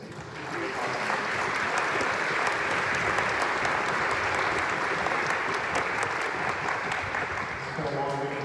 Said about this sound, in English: if you wouldn't mind joining me in a round of applause for what it's been